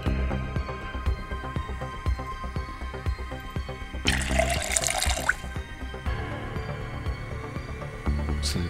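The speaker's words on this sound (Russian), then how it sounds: "Сейчас мы водички дольем" Water refilling a bottle at a tap in the survival game Project Zomboid, a bright rushing burst of about a second over steady game background music and ambience.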